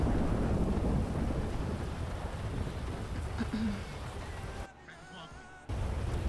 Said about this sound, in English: If the storm is louder than the music